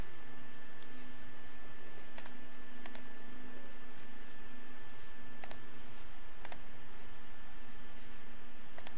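A computer mouse gives a handful of sharp, isolated clicks spaced a few seconds apart over a steady electrical hum and hiss, with no talking.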